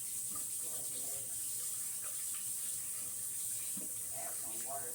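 Water runs steadily from a tap into a hot, lathery batch of freshly made activated charcoal soap, a constant bright rush filling the whole moment while a voice speaks faintly underneath.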